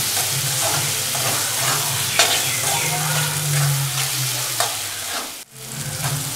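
Ginger sizzles loudly in a pan for a chicken dry fry and is stirred with occasional scrapes. A sudden brief drop near the end breaks the steady frying.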